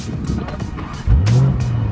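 A 2020 Lamborghini Urus fires up at the press of its start button, with a sudden loud, deep engine bark midway that settles into a strong, rumbling idle after a stretch of quieter cabin noise.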